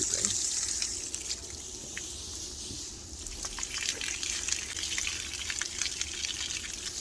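Water runs steadily from the tap of a portable hot water heater, a continuous hiss and trickle that stays fairly quiet and even throughout.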